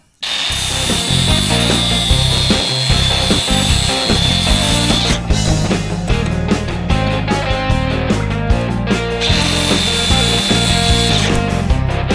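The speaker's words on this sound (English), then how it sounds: "Just going to change over to the buffing wheel now." A buffing wheel polishes a metal suspension bracket for a quad bike, a loud, steady high-pitched motor whine with grinding rub as the part is pressed on, easing briefly in the middle before resuming.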